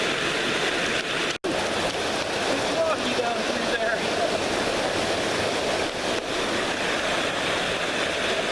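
Underwater sound from a creek in a forest, captured by an action camera in a waterproof housing: a steady, loud rushing wash of churning water with a brief dropout near the start.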